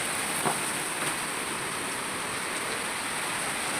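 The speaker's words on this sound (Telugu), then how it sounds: "ఇంత వర్షం ఇంత గాలి వాన" Heavy rain driven by wind pours down in a village, a steady dense hiss filling the air without pause, even and moderately loud with no voices.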